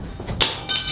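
Two sharp hammer strikes on a box, a short pause between them, close and fairly loud.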